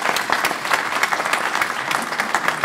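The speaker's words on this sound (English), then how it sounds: "Let's give him a round of applause." An audience at an information security conference talk claps for the speaker in a brief, dense, even burst of applause.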